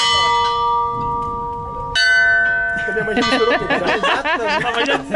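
A small and a large church bell in Alcântara ring out, each struck once and left to decay, then a person talks over the lingering hum of the bells.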